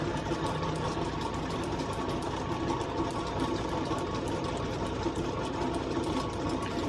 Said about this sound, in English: This lathe is built in 1936, and even though it's not very worn, it's pretty old, so I take little cuts on it.